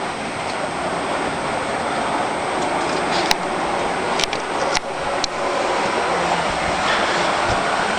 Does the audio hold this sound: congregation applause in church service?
no